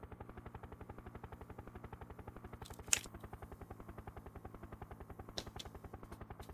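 A helicopter in the SNES game Urban Strike fires at bombs: a steady, fast, even chopping pulse runs throughout, broken by two brief sharp bursts, with no talking.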